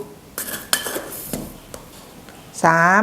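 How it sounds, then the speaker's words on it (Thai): A spoon scoops tea leaves into a container in a few separate clinks and scrapes, close and clear, followed by a brief tonal ring at the end. "เพราะฉะนั้นเน่ก็จะใส่ชามาค่ะ เป็น 40 กรัมก็คือ 4 ช้อนนะคะ"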